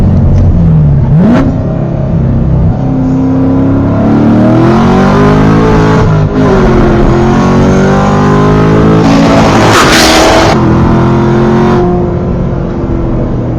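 A C7 Corvette Stingray fitted with full bolt-ons pulls hard down a highway, its loud engine revving up through the gears with a rough shift partway through and a steady roar and wind noise continuing throughout.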